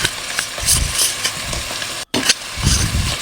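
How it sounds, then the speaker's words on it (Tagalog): Garlic sizzling in hot oil in a heated pan for a garlic pepper beef dish, a constant crackling hiss with bursts of louder spitting, a brief dropout midway, no talk. "So, sa mainit na kawali, naglagay na ako dyan ng bawang."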